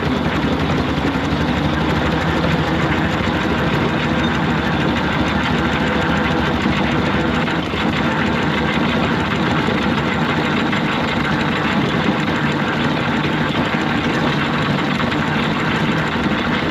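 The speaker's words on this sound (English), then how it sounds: "You can see the road locomotive just overtaking a 4-inch scale Foster traction engine now." A 4-inch scale McLaren model road locomotive runs at a model engineering exhibition, giving a loud, close, continuous mechanical chugging and rattling drone that stays steady throughout with no talking.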